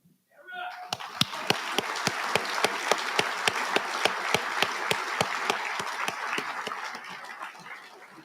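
Sustained audience applause at a Marine Corps Association awards dinner, dense clapping from a large crowd rising quickly and holding steady, with a few louder, sharper claps standing out before it thins toward the end.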